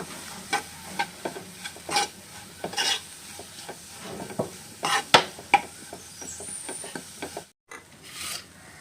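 Garam masala being sautéed in a pan for mushroom curry gives irregular scraping and rubbing strokes of stirring over a faint sizzle, close and fairly quiet with no talking.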